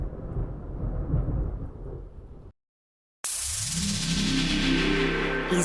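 A thunderstorm begins with heavy rain and rumbling, drops to silence for a moment, then erupts into a loud rolling thunder crash.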